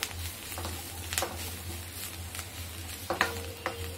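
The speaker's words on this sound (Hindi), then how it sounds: "इसको फ्राई करेंगे अच्छी तरह।" Spiced masala with chili powder and green chilies fries in a little oil for a shahi bhindi gravy, a quiet steady sizzle broken by a few brief stirring clatters and scrapes, with no voices.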